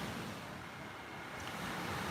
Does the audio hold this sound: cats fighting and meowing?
no